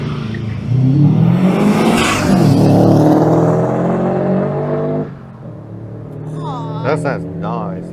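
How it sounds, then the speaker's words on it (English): A TVR Cerberus sports car accelerates past at Goodwood Motor Circuit, its engine roaring and rising in pitch, then fading as voices chatter nearby. "Watch this TVR Cerberus go."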